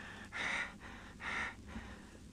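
A voice imitates two sharp, breathy gasps for air, one after another with a short pause between, close and fairly quiet.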